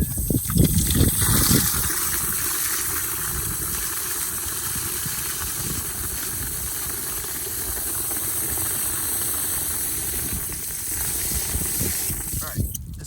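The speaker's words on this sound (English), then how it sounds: "Flip on the water." Water from a hose runs onto a concrete garage floor in a steady, even hiss and splash that carries on without a break, with a few louder spatters at the start.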